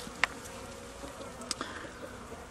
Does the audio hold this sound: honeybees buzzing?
yes